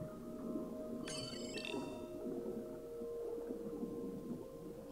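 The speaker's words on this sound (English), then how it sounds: "Oh, specifically the bottlenose dolphins," Bottlenose dolphins in the underwater game Beyond Blue give a short cluster of high whistles and clicks over a low, faint underwater ambience with a steady tonal hum.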